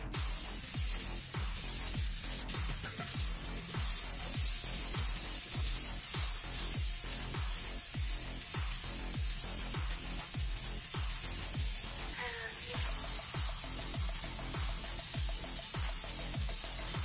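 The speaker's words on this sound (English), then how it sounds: "Here I'm spraying to get good coverage around the emblem." Spray paint misted onto a car fender around the emblem during a cheap DIY spot repair, a continuous close hiss with rhythmic scratchy pulses as the spray sweeps back and forth.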